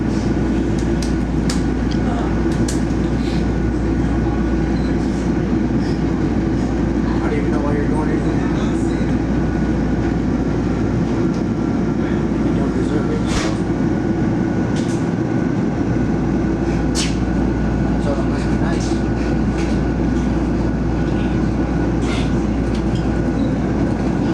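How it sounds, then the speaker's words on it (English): An RTD N-line commuter train in Denver, bound for 48th and Brighton, rumbles steadily from inside the car, with a constant low roar and occasional sharp clicks and rattles from the wheels and coupling. "I then got on an N-line train for 48th and Brighton"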